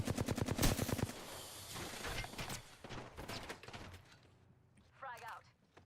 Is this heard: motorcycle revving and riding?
no